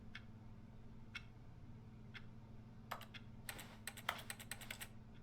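Sharp keyboard clicks from The Stanley Parable: Ultra Deluxe, a few spaced single taps and then a quicker cluster of clicks, heard alone over a steady low game hum.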